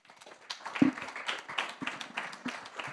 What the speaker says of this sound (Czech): Poprosím o potlesk.